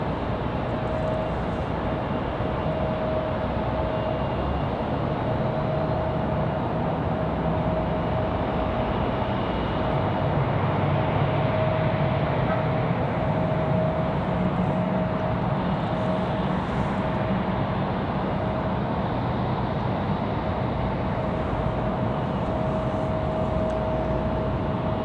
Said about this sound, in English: 737-800 from Chicago O'Hare